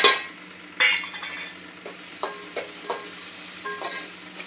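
Homemade garam masala spices sautéing in oil in a pan, a close steady sizzle with repeated spoon scrapes and clicks against the pan, loud bursts at the start, and no voices.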